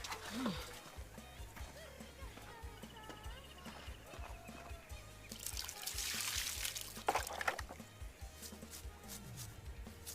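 Water trickles and splashes as sea snails are washed by hand, with a louder burst of running water midway. It plays under a person talking.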